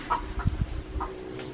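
Chickens on a farm in the Philippines give several soft, scattered clucks close by over a quiet background.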